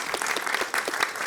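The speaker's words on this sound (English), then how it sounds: "How about a round of applause for all of our candidates this evening?" An audience at a Utah Valley Chamber of Commerce candidate debate gives the candidates a round of applause, a brisk wash of many hands clapping with no voices over it.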